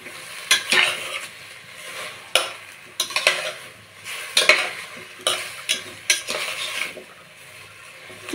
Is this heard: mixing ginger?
yes